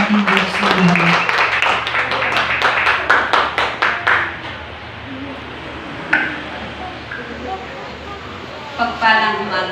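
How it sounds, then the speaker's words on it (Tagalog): A church congregation at a testimony service applauding, a burst of rapid clapping for about four seconds that then fades under a near voice speaking. "Palakpakan po natin ang buhay na Diyos sa buhay po ni Mama Loli."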